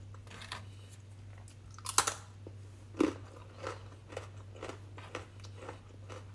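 Someone chewing crunchy food, a close, quiet series of irregular sharp crunches and bites over a low steady hum.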